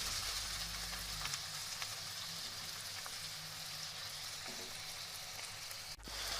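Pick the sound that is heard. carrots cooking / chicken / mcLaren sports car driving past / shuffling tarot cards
carrots cooking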